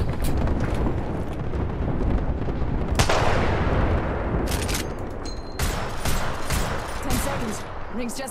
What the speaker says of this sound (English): I was shooting way too low.